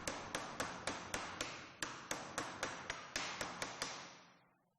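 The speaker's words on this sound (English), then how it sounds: "evenly beating with a hammer." A hammer taps a bearing ring into an electric motor housing with about a dozen evenly spaced, sharp metallic strikes in a steady rhythm, each ringing briefly before the last one fades out.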